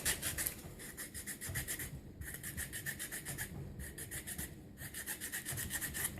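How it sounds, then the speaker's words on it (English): Steady, rhythmic scraping of sandpaper rubbed back and forth in quick strokes inside a ring made from a clad quarter coin, close up, with brief pauses between bursts. "we'll go ahead and start sanding the inside of it now"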